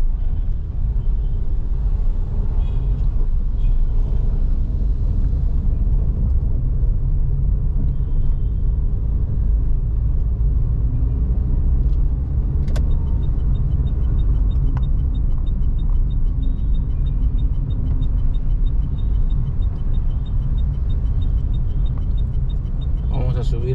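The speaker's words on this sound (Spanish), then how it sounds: "Un poco de tráfico." Car driving through city traffic toward the town centre, a steady loud low road rumble and engine drone throughout with passing vehicles, people talking over it.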